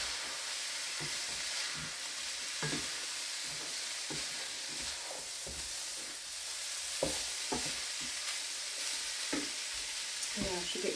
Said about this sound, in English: I want to get it a good sizzle before I add more to it.